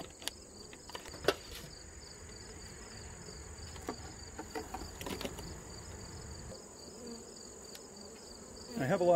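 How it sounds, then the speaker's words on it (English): Honey bees buzz steadily around an open hive during a newspaper-method merge of two colonies, a dense continuous hum with occasional louder passes near the microphone and brief handling noises. "I have a lot of bees on the top cover and the inner cover."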